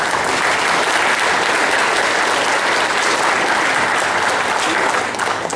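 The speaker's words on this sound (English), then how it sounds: "Give him an applause." Sustained, dense applause from a large audience at a presentation event, loud and steady throughout with no pauses and no talking over it.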